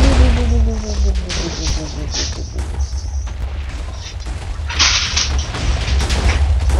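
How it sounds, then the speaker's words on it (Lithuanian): A model airplane blown up with an explosive charge gives a sharp boom and crackling bursts, followed by rumbling and debris noise, with people's voices reacting over it. "O, Diev, susprogo."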